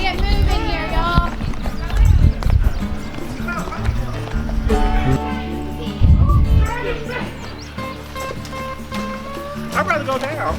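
A horse's hooves clip-clop steadily as it is ridden, with a few heavier thuds, while people talk loudly over the sound and music plays underneath.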